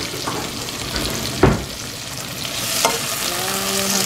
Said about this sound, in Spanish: Aquí se está sofriendo.